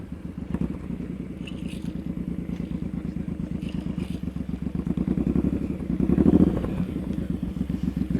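A motorcycle creeps along at slow speed during a riding-skills practice session, its engine chugging in a steady low pulse while a throttle blipper adds a brief surge of revs near the end, close and loud, with no voices.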